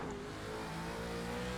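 A race car engine in a racing video game holds a steady, high revving drone throughout, loud and continuous with no pauses or voices.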